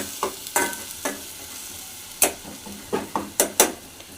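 Green chilies sauté in a pan toward browning, a quiet sizzle broken by irregular clicks and scrapes of a spoon stirring, clustering toward the end.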